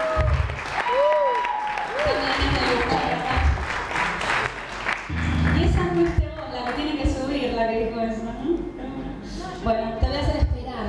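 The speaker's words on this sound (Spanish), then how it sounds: "Un fuerte aplauso a Andy" Studio audience applause for a guest named Andy on a variety show, loud and steady at first, then mixed with music and overlapping talk as the clapping continues beneath it.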